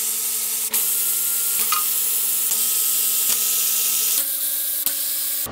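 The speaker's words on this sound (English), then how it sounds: "we will loosen the bolts on the oil pan. We'll take most of them out." Oil pan bolts are loosened on a Cadillac 472 engine, a loud continuous whirring tool sound that holds steady, then shifts pitch partway through, with a few brief clicks.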